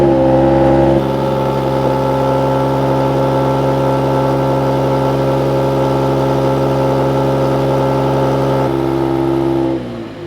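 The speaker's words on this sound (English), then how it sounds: "Now let's listen to the exhaust." Exhaust of a 2025 Mercedes-AMG GLE 53 SUV, heard close up: a louder burst at the start drops into a steady, humming idle for several seconds before fading out near the end, with no talking.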